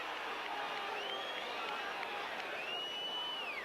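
Crowd noise from a 1994/95 Middlesbrough versus Oldham Athletic football match, a steady distant roar and murmur of spectators with rising whistles, heard faintly under a commentator speaking.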